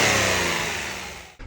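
A 2024 Mitsubishi Mirage engine whines and revs loudly under acceleration at low speed, a steady strained tone like a lawnmower that fades slightly before cutting off near the end.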